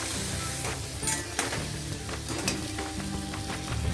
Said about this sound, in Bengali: চিংড়িটাই যে মশলা মাখিয়ে রেখেছি ওটা আমি অ্যাড করে দেবো দিয়ে একটু নাড়াচাড়া করবো